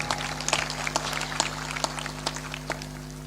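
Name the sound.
audience clapping weakly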